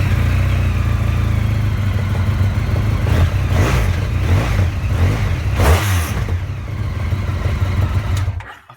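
A Honda VFR 1200 motorcycle with its exhaust baffle fitted revs hard up close, the engine roar rising and falling through several throttle blips before cutting off near the end.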